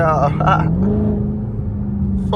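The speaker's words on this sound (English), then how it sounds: "I never put no muffler back on cause it's super loud" A straight-piped Dodge Charger Hellcat widebody with no muffler sends out a deep, steady low exhaust rumble beneath a voice speaking close by.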